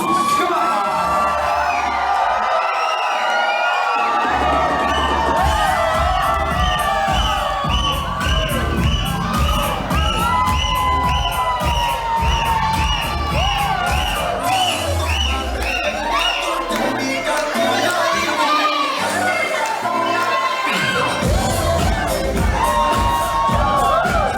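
Guests at a wedding reception cheer, whoop and shout for the newly introduced couple, a dense, loud crowd roar with high yells that surges and continues throughout.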